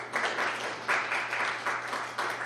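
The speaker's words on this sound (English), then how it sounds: "Give yourselves a round of applause." A church congregation applauding, brief uneven clapping in several swells over a low steady hum.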